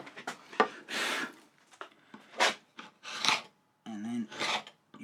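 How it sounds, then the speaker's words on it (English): A chisel drawn back through a sawn groove in wood gives several short, close scraping strokes separated by brief gaps. "And then you can just drag your chisel back through here just as a little bit of a scraper to smooth that out"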